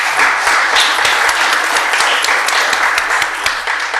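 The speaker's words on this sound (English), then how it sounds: "I think that merits a round of applause" A crowd at a city council meeting gives a loud, sustained round of applause, dense clapping that holds steady without letting up.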